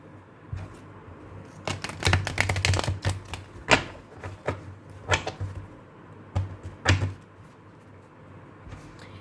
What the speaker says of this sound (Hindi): पहले मैं कार्ड्स को अच्छे से शफल कर लेती हूँ।